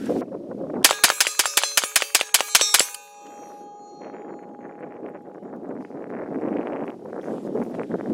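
Rapid string of about ten sharp shots from an FN PS90 5.7x28mm rifle, fired in quick even succession outdoors, followed by a lingering ring and wind noise.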